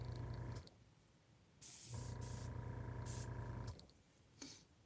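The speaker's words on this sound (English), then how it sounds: "I'm using my air compressor, my airbrush gun." An airbrush gun fed by an air compressor runs in bursts, with a steady motor hum and a hissing spray switching on and off, plus brief bright hiss spurts.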